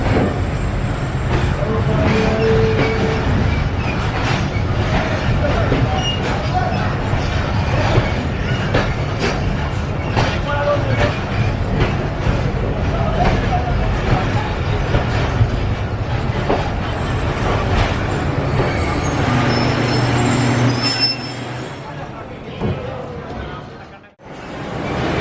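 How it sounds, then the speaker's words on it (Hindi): Shalimar Express passenger train pulling out of Nawabshah and running on the Karachi to Rohri line, a loud steady rumble with clicking wheels and rattling carriages that drops away abruptly near the end. "ट्रेन ने नवाबशाह पर स्टॉप किया और कुछ ही मिनट बाद दोबारा रवाना हुई"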